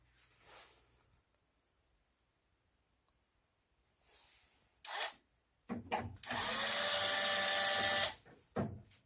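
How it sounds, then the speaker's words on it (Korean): A power screwdriver backs screws out of the left side cover of a Samsung HP copier, with faint handling and clicks, sharp short bursts, then one loud steady whir lasting about two seconds and a brief final buzz. "좌측면의 카바를 분해하기 위해서는 좌측면의 나사를 모두 풀어줍니다."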